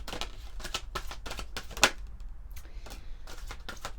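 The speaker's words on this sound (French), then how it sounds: "On va prendre quelques cartes de l'oracle de la lune." Moon oracle cards being shuffled nearby, a run of quick papery riffles and flicks in an uneven rhythm with one sharper snap partway through, no voices.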